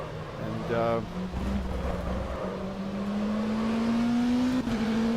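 An Oreca LMP2 endurance race car in rFactor 2 drones steadily, its engine note climbing gradually as it accelerates, while someone talks continuously over the sustained engine sound.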